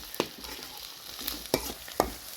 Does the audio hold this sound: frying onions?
yes